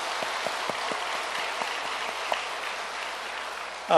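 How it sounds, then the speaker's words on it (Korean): A church congregation applauds to welcome new members, a soft, even patter of many hands heard from a distance, ending as a voice begins. "한 번 더 우리 박수로 환영할까요?"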